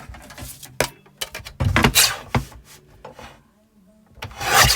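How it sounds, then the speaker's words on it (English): Scissors or a blade trimming excess material from an advent calendar door, in a series of close, short rubbing and snipping strokes with brief pauses between them, no voices. "Trim that excess there."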